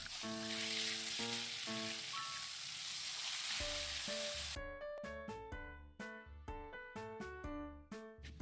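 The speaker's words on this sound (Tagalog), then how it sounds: "Sunod, pipirito tayo ng galunggong." Galunggong (round scad) fish fry in hot oil with a loud, steady sizzle under background music for several seconds, after which only the music continues.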